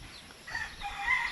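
Chickens in a coop on a farm, heard as a short, faint burst of clucking and crowing calls against quiet background noise.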